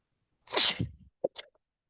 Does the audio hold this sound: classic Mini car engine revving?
no